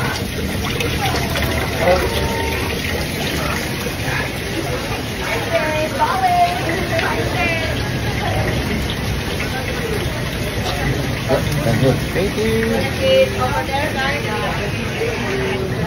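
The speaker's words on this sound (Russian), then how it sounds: "общем так, святой водой я умылся." Holy spring water flows steadily at Tanah Lot temple in Bali, a continuous splashing wash under the chatter of a busy tourist crowd, with someone talking nearby.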